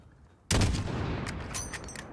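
A sharp, loud rifle shot cracks out from a Call of Duty sniper mission, then rolls into a long, booming echo that fades slowly over the next two seconds.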